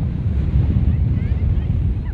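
Sea waves at Chandipur Beach in the evening make a loud, continuous rushing wash, heavily mixed with wind buffeting the microphone.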